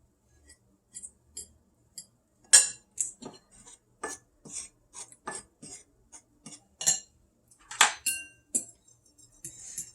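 Seasoning stirred into bowls of flour, bread crumbs and beaten eggs, a series of sharp close clinks and taps of a utensil against the dishes in irregular bursts over near silence.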